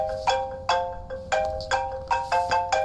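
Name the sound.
iPhone ringing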